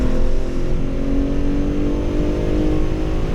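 A Saab car, a rebranded Subaru, runs at a steady high engine drone on the Watkins Glen International race track, its continuous loud harmonic whine holding nearly constant over wind and road roar.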